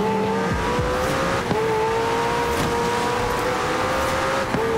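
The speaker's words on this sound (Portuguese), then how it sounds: "esse carro laranjado corre demais" An orange race car speeding along in Forza Horizon 4, its engine a steady loud high-pitched drone with slight pitch shifts and a couple of brief clicks.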